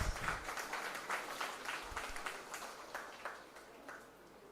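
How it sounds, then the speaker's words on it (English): Audience applause at a convocation ceremony for a graduating PGDM class, a sustained wash of many hands clapping that swells at first and then slowly fades, heard alone without speech. "Please give him a big round of applause."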